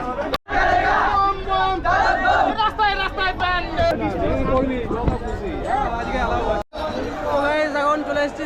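A packed pilgrim train bound for Tarakeswar on the third Monday of Shravan carries a loud, dense crowd: many voices chant and shout together, with overlapping chatter and brief breaks in the din.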